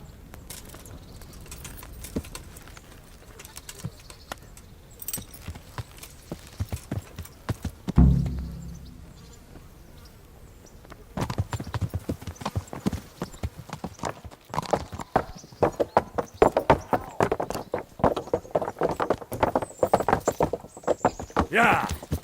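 Horse hooves clip-clop in the video game Kingdom Come: Deliverance, a steady rhythmic trot of footfalls building through most of the stretch, with voices talking over the hoofbeats in places.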